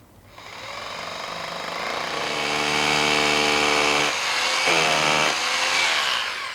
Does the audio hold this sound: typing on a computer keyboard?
no